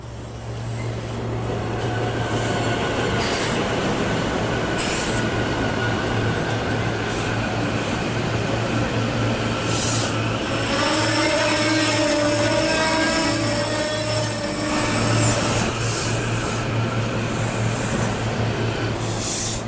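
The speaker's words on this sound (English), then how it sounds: "Finally, the Silverliner 5s have arrived." A SEPTA Silverliner 5 electric passenger train rolls in at a station platform on the CSX Trenton Subdivision, a steady loud rumble with a low hum, brief high wheel squeals and rising rail tones midway through.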